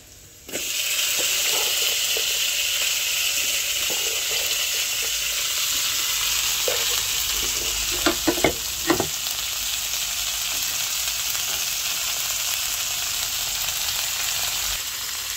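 String beans dropped into a hot pan for adobo, a sudden loud sizzle that starts abruptly and keeps frying steadily, with a few stirring clinks partway through.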